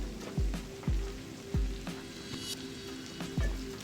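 Onions frying in a pan for chicken fajitas, a soft steady sizzle broken by several low thumps and scrapes as they are stirred, fairly close and with no talking.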